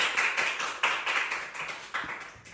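Audience clapping at a quiz show, a short round of applause with distinct claps that swell and fade in quick pulses, close and fairly loud with no talking.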